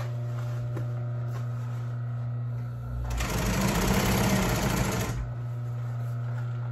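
An upholstery sewing machine fitted with a new motor clutch runs smoothly through an upholstery cover. A low motor hum comes first, then a steady, loud stitching burst lasting about two seconds before it stops.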